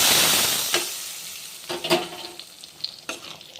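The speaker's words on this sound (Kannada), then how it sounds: "ನೋಡ್ರಿ, ಇದಕ್ಕೆ ಇದು ಒಗ್ಗರಣೆ ಹಾಕೋಣ." A garlic and red chilli tempering sizzles in hot oil for a palak gravy, stirred with a few sharp scraping strokes over a fading hiss, close and alone.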